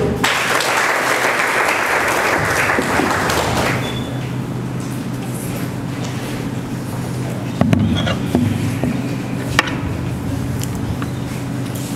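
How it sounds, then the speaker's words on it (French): Applause at a youth bloggers' academy ceremony in Mali, loud clapping for the first few seconds that fades into room hum, with a few thumps and knocks afterward. "sous vos acclamations, s'il vous plaît, Mme Samasekou Aminata pour ses allocutions"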